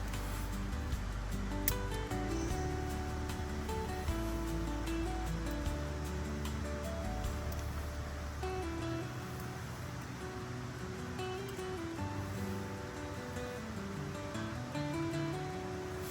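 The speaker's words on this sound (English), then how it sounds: "get my stove started" A steady, roaring hiss runs unbroken throughout from a camping stove burner going full blast nearby, with no voices.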